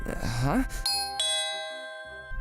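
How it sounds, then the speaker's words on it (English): A two-tone doorbell chime rings out clearly and sustains for over a second, following a short burst of voice at the start. "The doorbell."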